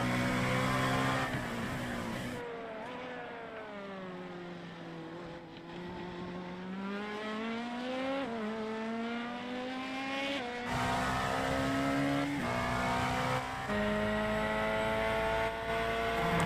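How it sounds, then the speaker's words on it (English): Corvette race car engine in the iRacing sim at the Daytona 24 Hours, loud and continuous, with rising and falling revs as it shifts through gears and sweeps past other cars. "Corvette sounds cool."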